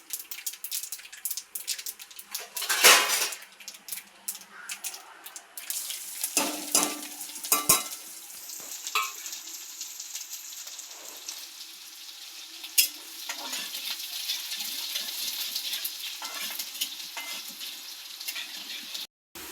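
Sesame seeds, garlic, curry leaves and green chilies sizzle and spit in hot oil in a pan, with a few loud bursts early on followed by steady crackling frying and occasional utensil stirring sounds.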